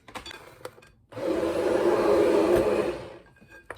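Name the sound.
immersion blender blending homemade mustard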